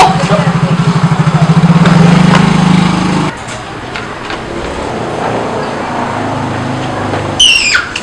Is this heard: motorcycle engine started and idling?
yes